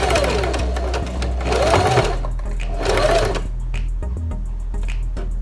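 A sewing machine stitches a four-step buttonhole, running in loud, steady bursts of rapid mechanical stitching with a short pause between them as the stitch changes.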